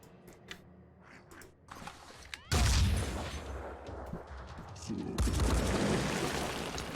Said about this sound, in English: Little bit of return fire